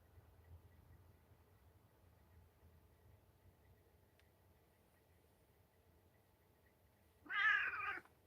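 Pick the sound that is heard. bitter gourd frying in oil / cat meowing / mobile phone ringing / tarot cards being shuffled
cat meowing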